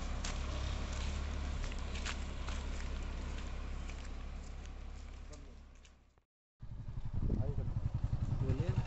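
Motorcycle ride out to a farm field in a rural area, with a steady engine drone under ongoing talk, a brief cutout near the end, then louder, rougher riding noise.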